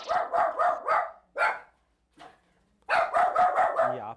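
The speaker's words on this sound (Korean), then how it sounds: "갑자기 가게 앞 사람들을 향해 짖기 시작하는" A guard dog in front of a hair salon barks at people outside, loud and close, with rapid runs of barks, a single bark, a faint yip during a pause, then another fast string.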